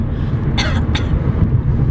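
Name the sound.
throat clearing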